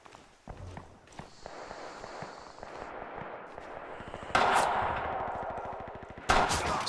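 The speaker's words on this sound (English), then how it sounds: "I hear a lot of shooting and nothing." Gunfire from Rising Storm/Red Orchestra 2, where scattered distant shots and footsteps build into two loud, sharp bursts of rifle fire late on, over a steady battle din.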